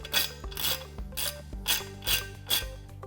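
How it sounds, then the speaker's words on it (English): A 10mm socket ratchet backs bolts out of the rear of a Greenheck overhead fan DC drive, giving six close, rhythmic metallic rasping strokes with clicking in between. "On the rear of the drive, we can use a 10mm socket to remove these bolts."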